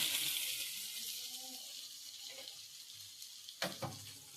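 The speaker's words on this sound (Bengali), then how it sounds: "সামান্য একটু মশলাটাকে জল দিয়ে দিলাম।" A small splash of water goes into masala frying in a pan, giving a hissing rush at the start that fades to a soft sizzle, then a couple of sharp clatters near the end.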